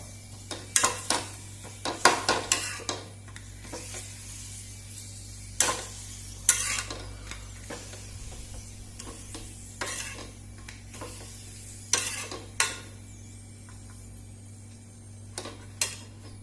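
Papad roasts in a dry pan while being turned, a faint sizzle under irregular clinks and scrapes of a utensil against metal, sparse and close, with no talk.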